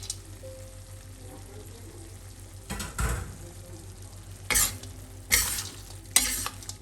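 Chopped candied winter melon stirred into Nyonya rice dumpling filling in a pan with the heat off: a soft low background, then several loud, close scraping stir strokes in bursts.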